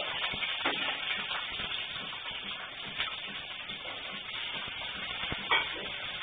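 Sliced shallots, peeled and cut, frying in oil for a chutney, giving a steady low sizzle with faint stirring and occasional soft clicks of a spoon against the pan, no talking.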